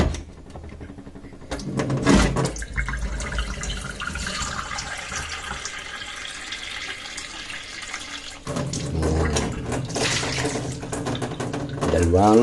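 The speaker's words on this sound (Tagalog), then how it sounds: "Lagyan natin ng tubig." Water pours from a tap into a cooking pot while making Filipino paksiw: a steady rushing fill that starts and stops twice, with someone talking over it.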